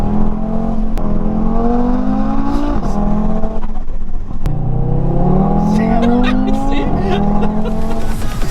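A Mk3 Audi TT RS with a Stage 2 tune accelerates hard, its five-cylinder engine note climbing steeply through the gears with brief dips at each upshift, loud and close, with some tire noise.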